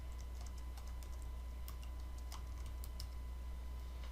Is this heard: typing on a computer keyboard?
yes